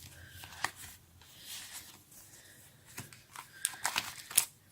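Panini sticker packets for Harry Potter and Fantastic Beasts are torn open with soft, close crinkling and paper rustles, quiet and irregular, rising into a few sharper rips near the end.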